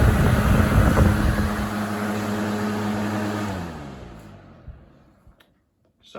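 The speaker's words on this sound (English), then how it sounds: "it's very loud, especially when you have both fans on and it gets super loud" A 2007 Honeywell HY-020 outdoor twin-turbo fan runs with a loud, low motor whir and a steady blade roar, then winds down, its pitch falling as it spins to a stop into near silence.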